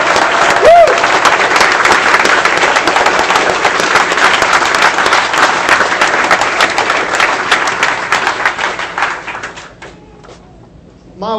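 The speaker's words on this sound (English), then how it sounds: "Give a big round of applause for all of our elected officials and party leaders who are here." Loud, sustained applause from a crowd at a 2016 congressional campaign kickoff rally, dense clapping with cheers lasting about ten seconds before fading out near the end.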